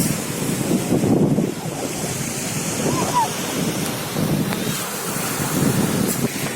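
Sea waves wash steadily onto a beach in Italy, with constant surf and wind buffeting the microphone throughout, heard up close without speech.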